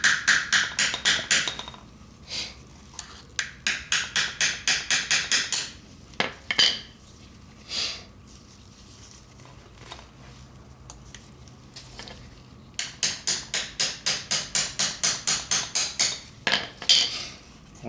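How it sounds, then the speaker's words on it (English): A hammer tapping a 1/8 inch punch against a clutch part on a 1996 Saturn SC2, sharp metallic taps in rapid bursts of many strikes separated by pauses and a few single knocks, close and with no talk. "Let's give it a tap."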